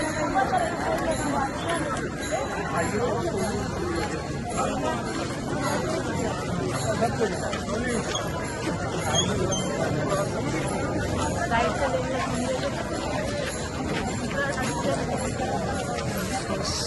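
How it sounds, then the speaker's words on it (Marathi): Dense crowd of pilgrims chattering on the early-morning walk to the Pandharpur temple, a steady continuous babble of many overlapping voices at close range with no single speaker standing out. "खूप जास्त गर्दी आहे."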